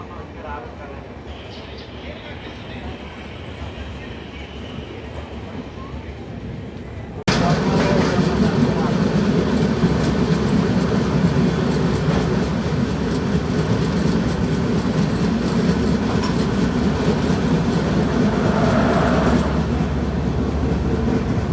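The Konark Express passenger train from Visakhapatnam to Mumbai departs the station and runs on. Steady, loud rail rumble and clatter of wheels surges in partway through and then continues without a break.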